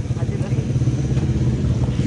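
A motorcycle engine revs steadily through a wheelie stunt during a rider challenge. The throttle drone is close and continuous, with low rumble throughout and voices talking over it.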